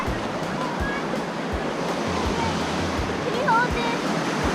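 Ocean surf rolls and breaks steadily on a beach during boogie boarding, a continuous loud wash of waves with wind buffeting the microphone, and faint voices in the background.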